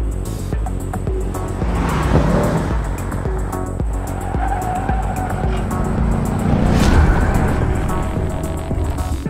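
A Mercedes car drives hard on a race track with changing tires, its engine revving up and down through gear changes while tires squeal, loud and close, with no talk.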